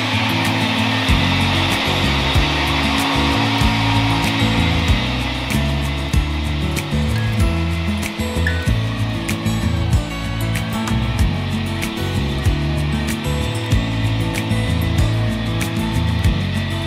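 A meat grinder processes wild game meat at home with a loud, continuous motor drone and a rough grinding texture that holds steady throughout, with no voices.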